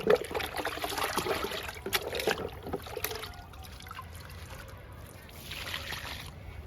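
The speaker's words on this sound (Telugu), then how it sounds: "ఇంకా కిచెన్ వేస్ట్ లిక్విడ్ కూడా ఇచ్చేద్దాము." Kitchen waste liquid is poured onto a fruit plant in soil outdoors, giving a steady trickling splash that is strongest at the start and fades to a quieter dribble, with light outdoor background.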